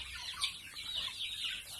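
Month-old chicks cluck and peep continuously in a high, busy chorus, close and fairly soft.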